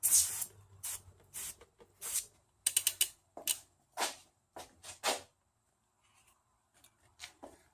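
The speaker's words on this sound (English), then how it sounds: "Same simple green foaming degreaser, oven cleaner, any sort of degreaser will do the job." Simple Green foaming degreaser sprayed onto a bicycle cassette on a Catrike, a series of short close hissing spray bursts in uneven rhythm, with light mechanical clicks between them.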